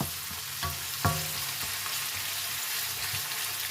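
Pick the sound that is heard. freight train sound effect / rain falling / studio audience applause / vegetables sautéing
vegetables sautéing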